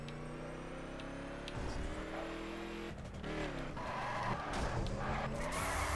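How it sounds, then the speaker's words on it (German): A Chevy Impala in the racing video game The Crew drives with a steady engine drone, then its tires screech and skid through turns as the engine revs rise, loud and continuous throughout. "So ein Chevy Impala."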